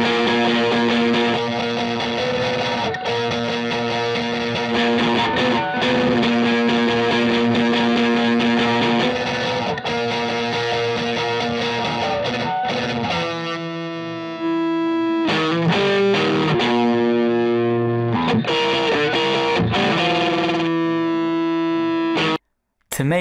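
A distorted guitar-and-band mix plays continuously while its tone shifts every few seconds between a fuller phase-aligned sound and a thinner unaligned sound, with a brief dropout near the end.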